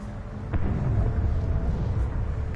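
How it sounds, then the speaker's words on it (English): A large explosion in the video game Batman: The Enemy Within, heard as a loud, sustained low rumble that swells after a brief lead-in and holds steady throughout, with no talk. "That was a rather large explosion."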